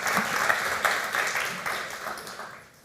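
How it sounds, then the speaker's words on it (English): A conference crowd at an integrating-cities panel gives a burst of many-handed applause that swells briefly, then tapers off and fades by the end. "Give them an applause for joining us."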